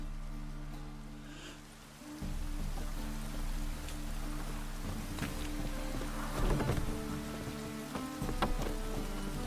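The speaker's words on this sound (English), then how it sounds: "Oh, right, rain." Steady rainfall in The Witcher 3, a broad wash of drops pattering on surfaces with scattered louder splashes, continuing throughout at moderate level over a low ambient hum.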